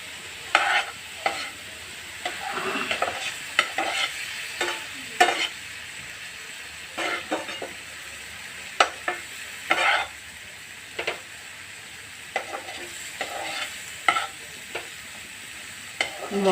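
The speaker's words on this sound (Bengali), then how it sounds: "মশলাগুলোকে আমি ভালো করে ভেজে নেব।" Spices with turmeric fry in a pan, a soft, steady sizzle broken by repeated scraping strokes of a spoon stirring, close up and moderately quiet, with no voices.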